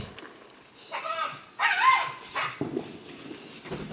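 A dog barks and yips in short bursts during bonfire night fireworks, a few sharp close barks with whimpering between them.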